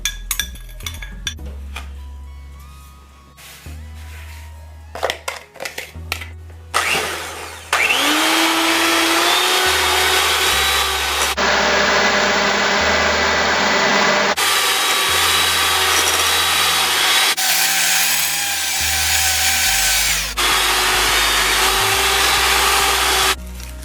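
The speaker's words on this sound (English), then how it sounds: "The first thing I will do is cream the butter and the sugar." Butter and sugar being creamed for banana walnut bread: a few seconds of light clatter give way to a loud, steady machine whir that runs on and shifts pitch several times.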